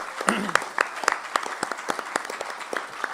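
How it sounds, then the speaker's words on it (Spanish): Sparse, scattered clapping from a small audience at a talk, with a few distinct individual claps standing out over a quiet room and some faint voices, heard at a moderate distance. "quiero hacer un agradecimiento y pedir un aplauso para Mario Bernachea"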